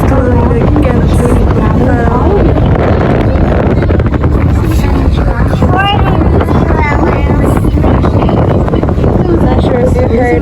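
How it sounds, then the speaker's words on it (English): Strong wind buffets the microphone on a whale-watching boat, a loud continuous roar with the boat's engine droning underneath, while people talk faintly throughout. "Oh, it's so windy."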